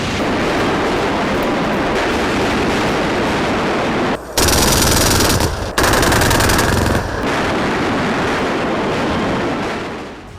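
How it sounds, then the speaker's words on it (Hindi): Loud, sustained automatic gunfire in news footage of North Korea firing, a rapid continuous rattle lasting about ten seconds with a brief gap, no talking. "उत्तर कोरिया ने तीसरे दिन भी फायरिंग की है"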